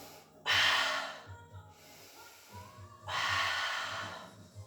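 Two long, audible breaths, a strong exhale and then another, taken while holding a pilates position with a resistance band, over a faint low hum.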